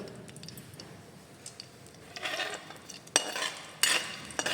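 Onions, okra and green chili stirred with a ladle in oil in a pan, giving soft scraping and a low sizzle that build in the second half, with a few sharp clinks of the utensil against the metal.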